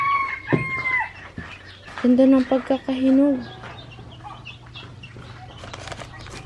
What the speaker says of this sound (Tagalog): Kakatukay ng manok.